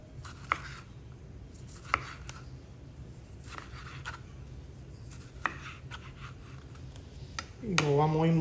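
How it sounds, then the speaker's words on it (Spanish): Knife chopping a tomato on a cutting board for caprese salad, sharp isolated thuds at irregular intervals over a quiet background, close and distinct. "vamos a empezar a picar nuestro tomate"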